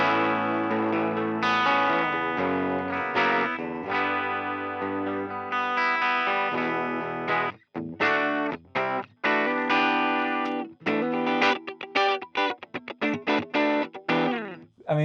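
An electric guitar played through a digital Fender Deluxe amp model rings out in chords and riffs, full and slightly driven with a chorus-like shimmer, then choppier staccato playing toward the end, close and loud.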